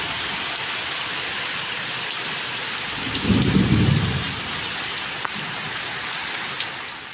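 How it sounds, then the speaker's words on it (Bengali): Heavy rain pours steadily at night during a thunderstorm, with a deep rumble of thunder swelling midway and fading after about a second, the downpour continuing loud and unbroken throughout. "বিদ্যুৎ চমকাচ্ছে, এখন রাত 3:30, ভোর হতে চললো। দেখেছো কত বৃষ্টি, জল জমে গেছে পুরো।"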